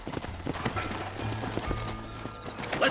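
Horse hooves clip-clop at a steady walking rhythm in the Red Dead Redemption western video game, close and clear over a low ambient background.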